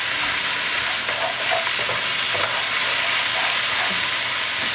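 Pan-fried rice noodles seasoned with salt and pepper being tossed in a hot pan, loud continuous sizzling with soft scraping of the spatula throughout, no talking.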